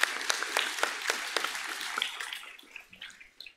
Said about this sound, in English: Give yourselves another round of applause for that